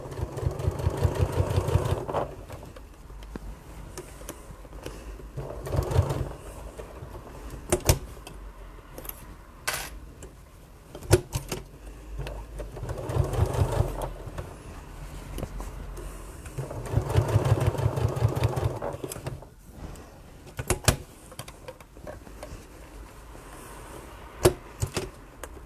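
A sewing machine stitches fabric around a bag corner in several short runs of whirring, with pauses and light clicks of handling between them. The sound is moderately close and plays alone without talk.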